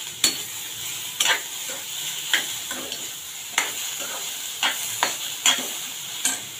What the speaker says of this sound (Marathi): याच्यामध्ये सुकं खोबरं घालूया, ते पण चांगलं भाजून घेऊया।